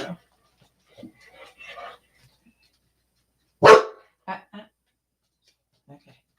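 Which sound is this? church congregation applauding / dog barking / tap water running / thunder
dog barking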